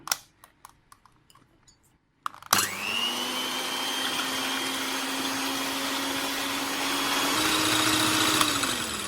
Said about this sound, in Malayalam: ഇനി നമുക്കൊന്ന് സ്ലോ സ്പീഡിൽ ബീറ്റ് ചെയ്ത് തുടങ്ങാം.